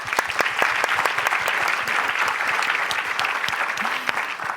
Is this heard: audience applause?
yes